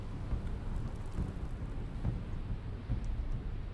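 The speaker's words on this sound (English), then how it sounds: "do we have a thunderstorm going?" Thunderstorm in the video game Expeditions: Viking, with steady rain and low rolling thunder rumbling continuously for a few seconds, no voices.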